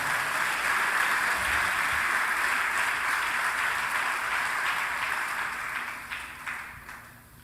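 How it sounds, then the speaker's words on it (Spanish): Sustained applause from a church congregation, dense and steady, then gradually thinning and fading toward the end. "Dele fuerte palmas al Señor"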